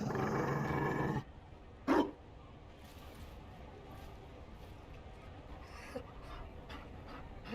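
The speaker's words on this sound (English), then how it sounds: "You found a dog?" A Mabari war dog in the video game Dragon Age Inquisition pants heavily and loudly for about a second, gives one short sharp bark or huff, then falls quiet against faint ambient background.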